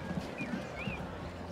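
Horse hooves clip-clopping in the Transport Fever 2 game, a short run of several quick muffled hoofbeats at moderate distance with a faint high creak over a low background hum.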